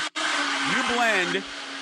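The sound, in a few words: kitchen blender mixing recipe ingredients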